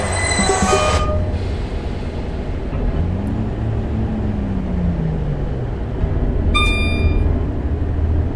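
A British passenger train rumbles steadily past at close range with wheel noise, a brief horn at the start and another sharp horn blast later, no voices.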